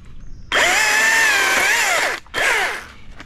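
Chainsaw cutting an aggressive face notch into a box elder tree in a backyard, a loud steady roaring burst of about a second and a half, a brief pause, then a shorter second cut.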